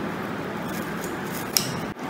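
Scissors cut across the ends of a used, cleaned plastic bag, a brief crisp snip standing out over a steady low background hiss.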